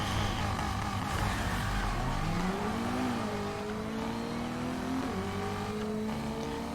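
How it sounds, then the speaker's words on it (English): A car in Need for Speed Heat revs hard with a roaring engine, then its pitch rises and dips through shifts, with faint blow-off hiss amid continuous loud drone. "There's a reason the blow off valves sound like the way that they do."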